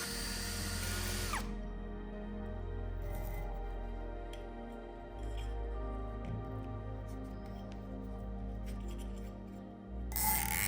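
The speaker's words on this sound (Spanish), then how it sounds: "hacemos unos agujeros en las aletas del motor" A power drill bores holes through the cooling fins of an electric motor, its steady whine running for several seconds and then cutting off, with a brief burst of drilling at the end.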